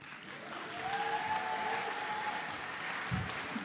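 An audience claps steadily at the Original Music Awards 2024 ceremony, a dense even wash of applause heard at a moderate distance with no one speaking over it.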